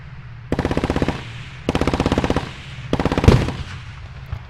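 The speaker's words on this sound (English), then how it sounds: "Hear that boom in between the machine gun fire? Yeah, that's your 30mm." Automatic machine gun fire from a 30mm-armed armored vehicle in the video game Armored Warfare, three loud rapid bursts of shots with a heavier cannon boom near the end, no talking.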